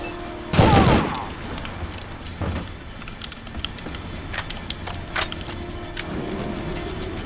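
Gunfire erupts from enemies armed with grenade launchers in The World is Not Enough video game: a loud, sharp burst near the start, followed by scattered fainter shots and mechanical clicks.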